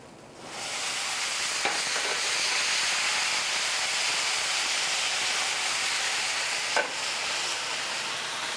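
A hot pot is deglazed with shallots and Pinot Gris verjus. A loud, even hiss of sizzling liquid swells in after a brief moment and holds steady, broken by a couple of faint clinks.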